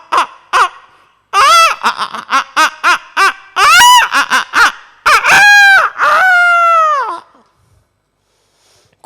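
A voice imitates a rooster crowing, with a run of short staccato calls building into a long drawn-out cock-a-doodle-doo crow, loud and close, ending in silence.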